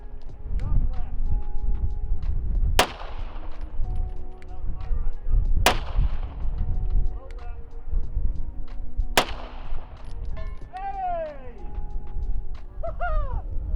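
SPR sniper rifle shots in a video game, three sharp loud cracks spaced a few seconds apart over steady background noise, each followed by a decaying tail.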